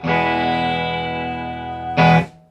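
A clean electric guitar chord rings out through a Quilter 101 Mini head amp and slowly decays, then a second strummed chord hits hard near the end.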